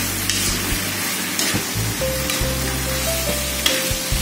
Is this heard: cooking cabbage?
yes